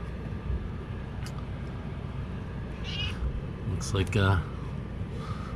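A cat meows a few times close by, over a steady background hum, with faint voices underneath.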